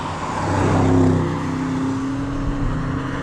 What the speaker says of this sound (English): This is the brand new C8 Audi RS6